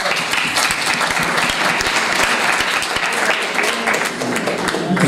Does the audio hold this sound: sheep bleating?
no